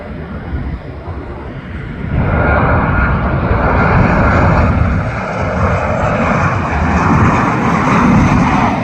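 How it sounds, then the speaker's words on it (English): Southwest Boeing 737-800 jet landing at BWI Airport, a loud broadband engine roar that swells after a couple of seconds and holds steady, close and continuous with wind buffeting the microphone. "This is Southwest Boeing 737-800 Nevada 1 coming in from Denver"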